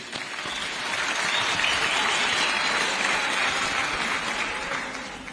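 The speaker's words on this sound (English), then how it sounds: "I would clap for all of you." Steady applause from a large audience at a public address in Zambia, dense and even, swelling slightly and holding for several seconds with no voices on top.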